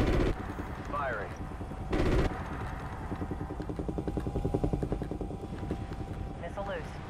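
Missile launches in Call of Duty: Ghosts, two loud whooshing bursts fired from an aircraft amid steady helicopter rotor drone and rapid machine-gun chatter, with radio voices talking.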